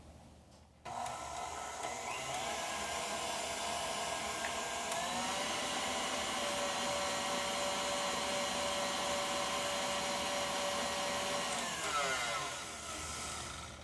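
An electric mixer beats a sugar and egg batter in a home kitchen, whirring steadily for about eleven seconds after switching on, its motor pitch shifting slightly before it winds down.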